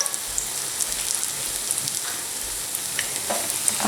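Sfenj, Moroccan yeast-dough fritters, frying in hot oil in a small pan: a steady, dense sizzle with faint crackles and occasional soft pops throughout, close and continuous, with no one speaking.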